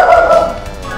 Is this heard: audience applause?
no